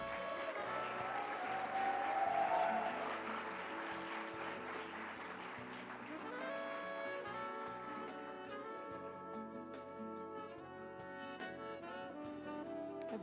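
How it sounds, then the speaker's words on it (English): A crowd applauds a national delegation at the IPSF World Congress 2019 opening ceremony in Kigali, a sustained patter of clapping mixed with prominent background music at moderate distance. "A big round of applause for Portugal."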